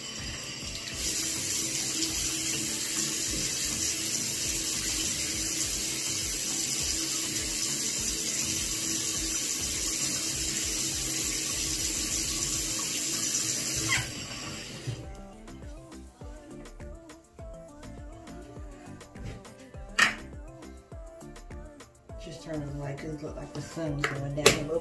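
A bathroom tap runs steadily while cool water is used to rinse cleanser off a face, a loud continuous splashing flow that stops midway, followed by quieter handling sounds and small clicks.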